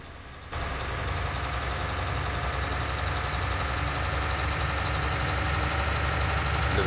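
Magirus-Deutz truck engine in Farming Simulator 22 pulling hard under acceleration, a steady loud diesel rumble that starts abruptly after a short quieter moment and then holds constant.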